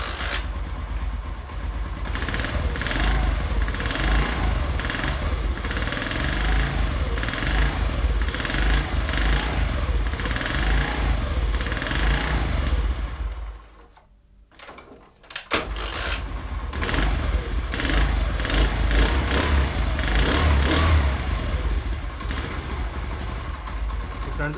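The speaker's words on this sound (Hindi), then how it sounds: "आपने नोट किया होगा कि बाइक की जो आवाज़ है वो कितनी स्मूथ हो गई है" A Honda CD 70 motorcycle engine runs steadily after a timing chain replacement, a loud, even idle close by that briefly dips and cuts out midway before picking back up.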